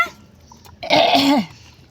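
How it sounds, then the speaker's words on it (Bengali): A single short, close cough, a rough voiced burst lasting about half a second in a quiet home kitchen. "গলাতে কাশি লেগেছে"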